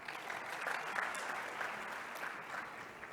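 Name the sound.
audience applause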